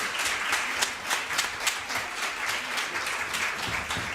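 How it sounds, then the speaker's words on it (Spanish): Audience applause at a cultural talk event, a dense steady wash of many hands clapping with a few sharper individual claps standing out, moderately loud and continuous throughout. "Aplausos."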